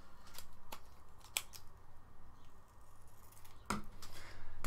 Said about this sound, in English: I've got a pair of scissors there if you want to snip the end off.